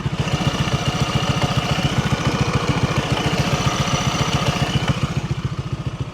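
A Honda PCX160 scooter idles steadily up close, its engine chugging in a fast, even rhythm with no talk.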